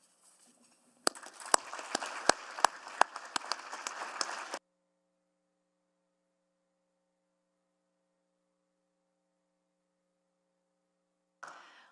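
Applause at a city council meeting in Edmonton, a burst of clapping from a room of people lasting a few seconds, then a quiet steady mains hum until a brief return of noise at the end.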